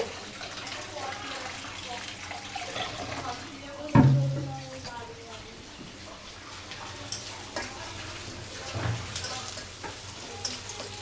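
Water is poured into a hot pan of frying onions with spices, giving a sudden loud splash and hiss that quickly settles into steady sizzling, with faint kitchen clatter.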